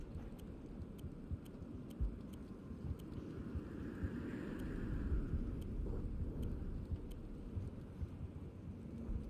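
Thunder in the Mass Effect game rolls as a low, continuous rumble that swells midway and then settles, with faint ticking sounds scattered over it.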